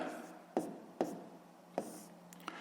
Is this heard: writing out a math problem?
yes